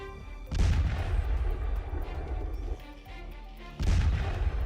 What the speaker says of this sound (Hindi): और फिर जोरदार धमाके के साथ बैरक में आग लग जाती है।